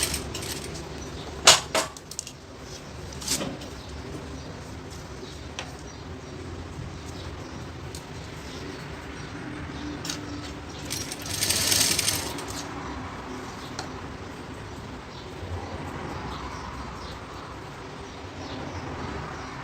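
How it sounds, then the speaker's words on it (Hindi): A sewing machine stitches along the zip edge of a Chinese collar on a garment made from a reused saree, with a soft running whir, a few sharp clicks and a brief louder burst of stitching midway. "At the edge of zip you have to stitch."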